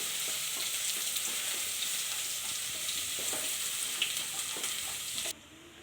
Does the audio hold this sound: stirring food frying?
yes